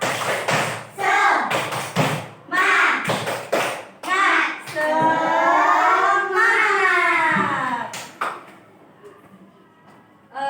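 Schoolchildren in an elementary school classroom perform a rhythmic spirit clap, bursts of sharp clapping in patterned groups mixed with loud group chanting and shouting voices, close and energetic.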